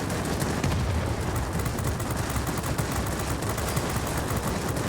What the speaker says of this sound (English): Come on, machine guns